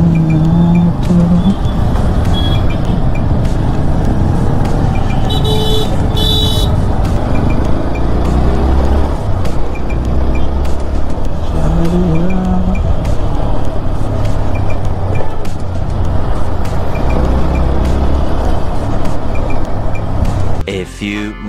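Road traffic in Kolhapur roars loud and continuous, with engine rumble and passing vehicles filling the whole stretch and faint voices mixed in underneath.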